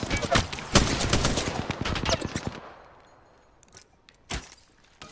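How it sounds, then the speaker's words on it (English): Rapid bursts of gunfire in the video game Apex Legends, loud close automatic volleys for a couple of seconds, then quieter, with a lone sharp shot near the end. "I'm getting shot."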